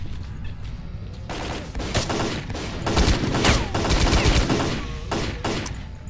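Bursts of automatic rifle fire in the shooter game S.T.A.L.K.E.R. Call of Pripyat, loud and close, with rapid repeated shots in several clustered volleys.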